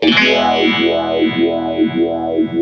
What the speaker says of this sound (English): It's like a phaser, vibrato-y kind of thing.